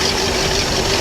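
A boat's inboard engine idles during a Velvet Drive transmission replacement, a loud, steady, dense rumble with a faint constant hum running through it and no pauses.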